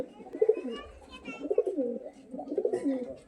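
A Giribaz pigeon coos close by in repeated soft, throaty rolls, with brief pauses between phrases.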